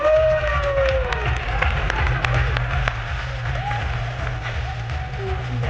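A crowd claps and cheers loudly at a Marathi film trailer launch event, with continuous applause, whistles and shouts filling the hall at a steady level.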